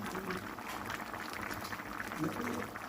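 Potatoes cooking in a pot of water at a steady rolling boil, a continuous soft bubbling hiss that stays faint and even throughout.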